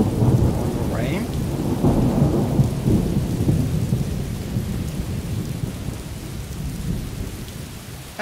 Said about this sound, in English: a great sound on the rain.